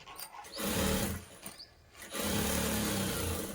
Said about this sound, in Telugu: చేసి నెమ్మది నెమ్మదిగా క్లాత్ను సెట్ చేసుకుంటూ కుట్టుకోవాలండి